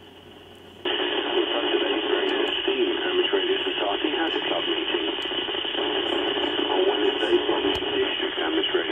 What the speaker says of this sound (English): Very, very noisy signal